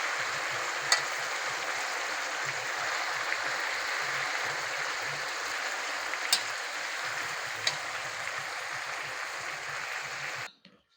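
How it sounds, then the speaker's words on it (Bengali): Fried mixed vegetables, with cabbage and boiled spinach added, get stirred in a pan: a steady soft sizzle with a few sharp clicks of the spoon, fading out abruptly at the end. "ভালো করে ঘেটে দেবো"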